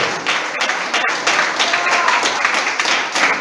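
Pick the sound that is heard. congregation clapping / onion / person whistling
congregation clapping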